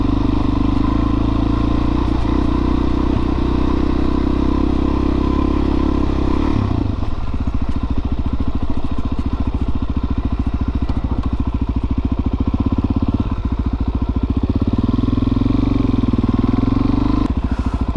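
A Suzuki DRZ400SM motorcycle rolls across grass, its single-cylinder engine a loud continuous drone with shifting revs and occasional bumps, heard up close from the rider's position.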